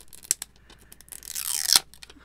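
A plastic zipper package for doll accessories is torn open, giving a rising, crackly rip that peaks in one sharp burst near the end, after a couple of brief crinkles.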